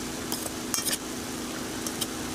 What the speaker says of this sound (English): And just give that a good stir.